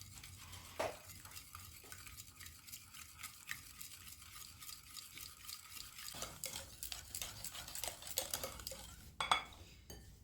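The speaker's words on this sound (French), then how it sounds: "Je vais venir déjà mélanger tout ça ensemble." A utensil stirs donut batter ingredients in a bowl, quiet irregular scraping and clinking against the dish, close and soft with small taps and no talking.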